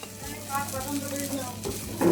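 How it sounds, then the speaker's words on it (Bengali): Paneer and boiled dal stirred together in a frying pan, a soft sizzle under scraping spoon strokes against the pan, faint and close, with a louder clink at the end. "পনিরটাকে একটু ভেজে নিয়ে যে ডালটা সিদ্ধ করে রেখেছিলাম সেই ডালটা দিয়ে দিলাম"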